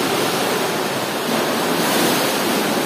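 Large ocean waves surge and crash at a sea cave cut through a hill, a loud, continuous roar of surf and rushing water with wind buffeting close to the microphone.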